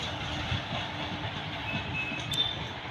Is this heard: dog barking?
no